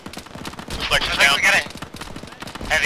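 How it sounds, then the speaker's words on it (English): Heavy gun fire in the military video game Arma, a rapid string of distant bursts at moderate level, with faint radio-style voices and game noise around it. "Sounds like a heavy gun north northeast."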